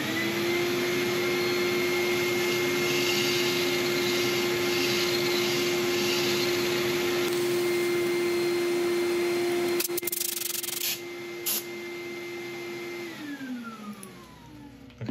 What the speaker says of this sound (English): I'm just going to quickly get a bit of fine sandpaper and just take off these red lines which I've drawn on